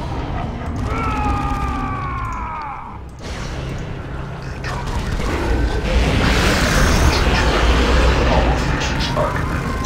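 Cyclone missile explosions from Warhammer 40,000: Dawn of War 2 roll out as a loud, sustained battle din of booms and rumbling blasts, rising in intensity partway through, with a brief tonal whine early on.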